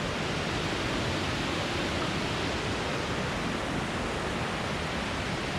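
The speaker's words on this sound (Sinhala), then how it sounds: "මේ බ්‍රාහ්මණැල්ලේ මේ දොළ ගිහිල්ලා වැටෙනවා ගින්ගඟට" Brahmanella stream in the Sinharaja rain forest near the Lankagama entrance, flowing into the Gin Ganga: a steady, broad, loud rush of running water that continues unbroken throughout.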